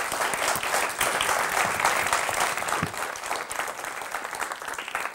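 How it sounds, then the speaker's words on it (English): Audience applause for a speaker named Inga at a cross-media for kids event, a steady dense wash of clapping that holds for about five seconds and then thins slightly toward the end. "Let's give her a round of applause."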